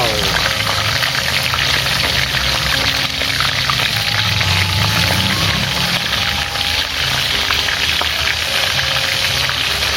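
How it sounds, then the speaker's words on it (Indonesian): Catfish fries in hot oil, a continuous crackling sizzle heard close up and mixed with other kitchen noise, with brief tonal sounds scattered through it. "kita langsung proses goreng lele ya sobat"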